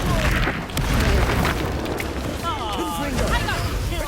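A Bombarda spell explodes in Hogwarts Legacy, a loud booming blast over busy game sounds and music, with a voice calling out the spell.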